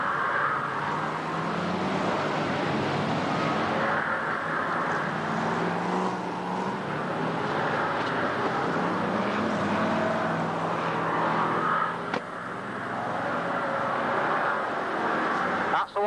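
F1 stock cars racing around a track at the 1991 British Championship, a steady roar of engines filling the whole stretch, loud and continuous with slight swells as cars pass, and no voices heard.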